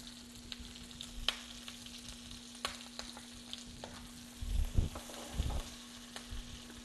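Cumin and green chili sizzling in hot butter in a pan, a soft, steady crackle with scattered sharp pops and a brief louder burst of frying near the end.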